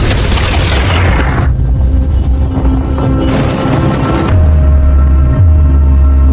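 Deep booming blast as a frozen creature bursts apart, a loud close explosion followed by rumbling debris and a second low boom, with no voices.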